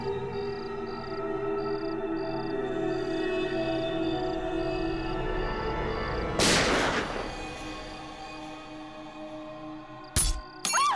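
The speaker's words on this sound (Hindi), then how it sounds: "गोली चलने की आवाज आई।" Over a steady humming musical drone, one loud booming shot rings out, followed a few seconds later by two sharp, quick cracks.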